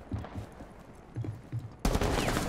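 Gunfire in Rainbow Six Siege, a few muffled shots early giving way to a sudden loud, close burst of rapid fire that carries through to the end.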